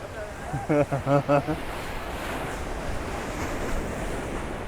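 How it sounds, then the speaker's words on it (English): Waves from a passing boat roll and wash against the harbour at Playa Blanca, Lanzarote, a steady surging rush with wind noise on the microphone and a brief voice near the start. "So this is the waves from the boat parking."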